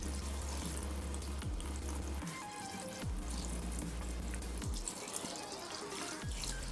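Water poured along a slate ramp into a rainbow crab tank over substrate, giving a steady wet trickle and splashing with low rumbling surges throughout, close and fairly loud, no talk.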